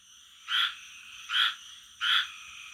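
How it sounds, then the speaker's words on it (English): A small frog croaking loudly at night in the American South, three evenly spaced, close, bright croaks against a quiet background hum. "It's a crazy little frog"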